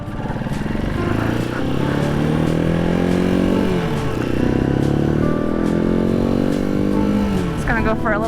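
A Halcyon 250 motorcycle ridden through Vermont, its engine droning steadily up close with rising and falling pitch as it shifts and accelerates, wind buffeting throughout.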